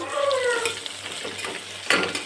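Onions being stirred in a pan with green chilies, coriander, curry leaves and mint for vegetable pulao, a steady soft sizzle with scraping and clinking of a utensil against the pan, one sharper clank near the end, no talk.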